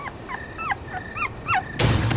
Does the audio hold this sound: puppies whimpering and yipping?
yes